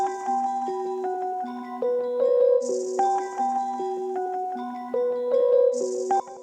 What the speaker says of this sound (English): So that with the Rhodes sounds like this.